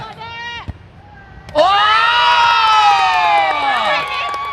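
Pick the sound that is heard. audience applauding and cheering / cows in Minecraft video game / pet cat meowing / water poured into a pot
audience applauding and cheering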